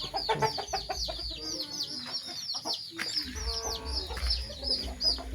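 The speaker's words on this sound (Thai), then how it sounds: "มีทั้งไก่ชนไก่ตี ไก่เจ ลูกไก่" Farmyard chickens, fighting cocks and chicks clucking and cheeping together in a busy, continuous chorus, with dense chirps from the young birds over steady background noise.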